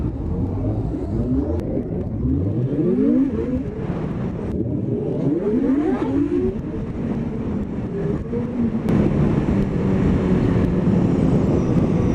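A Honda NSX sports car driving past, its engine note rising and falling in pitch through several gear changes, loud and close over a continuous road rumble.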